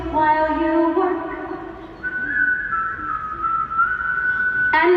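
A clear whistled melody of a tune, sustained notes sliding between pitches, loud and close with no talking, ending on a sharp higher note.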